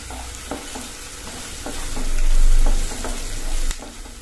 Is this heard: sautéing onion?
yes